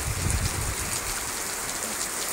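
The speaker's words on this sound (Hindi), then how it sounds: "ये देखो ओले गिर रहे हैं फ्रेंड्स" Steady dense patter of small hailstones falling alongside rain, a continuous hiss like heavy rain on a surface, close by and even throughout.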